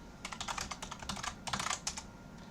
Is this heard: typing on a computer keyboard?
yes